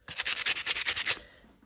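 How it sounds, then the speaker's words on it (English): Sandpaper scuffing a shiny craft item in about ten quick, even back-and-forth strokes, close and crisp, then stopping. "I think we need a little sandpaper"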